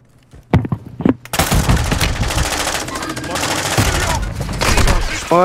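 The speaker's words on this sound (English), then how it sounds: "I'm taking enemy fire!" Rapid automatic gunfire crackles in loud, dense bursts with a few sharp single shots first, from a Call of Duty Warzone DMZ firefight, sustained and close for several seconds.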